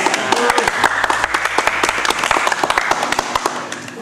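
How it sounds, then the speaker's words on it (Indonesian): Studio audience at a roasting comedy show breaks into loud, close applause, many hands clapping in rapid uneven bursts with a few shouts mixed in, sustained for the whole stretch. "tepuk tangan sekali lagi"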